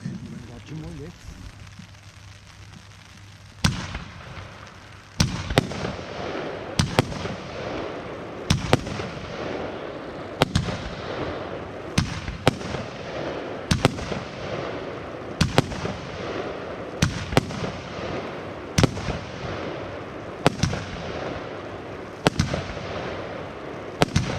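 A Weco Pretty Heaven fireworks battery with 13 shots of 30 caliber fires loud booming launches at a steady rhythm of roughly one every second and a half, with crackling between bursts and background talk.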